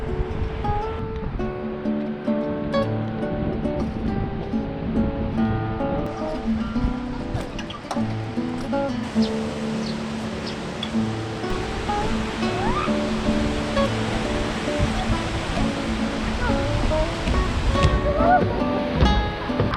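Beside a Korean bike path near Chungju, the Palbong waterfall pours with a constant rushing hiss, heard steadily throughout under background music.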